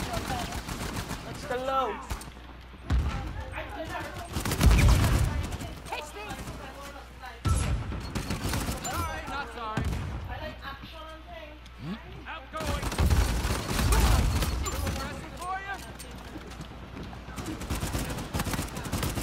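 Video game gunfire in a kill race match, with repeated bursts of loud shots in clusters throughout, under and between excited commentary talk.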